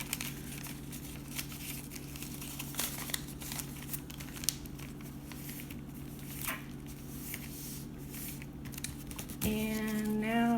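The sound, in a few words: paper being folded into a seedling pot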